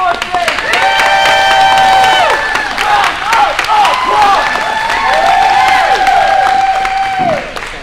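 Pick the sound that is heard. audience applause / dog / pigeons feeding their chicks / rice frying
audience applause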